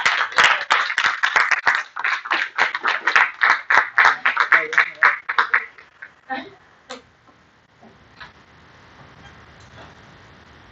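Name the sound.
audience clapping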